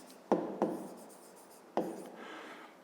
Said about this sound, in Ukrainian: Записуємо тоді вартість.